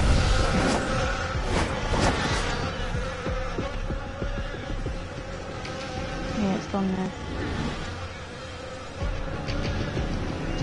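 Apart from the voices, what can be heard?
bees buzzing in DC Universe Online video game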